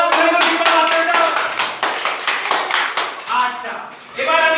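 Children clap together in a classroom during a lesson, producing a quick series of sharp, close claps in bursts while voices talk and chatter over them.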